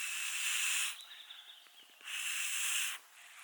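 Tiny birch twigs burning with a bit of alcohol give off two loud bursts of hissing steam as water boils out, with quiet crackling in between.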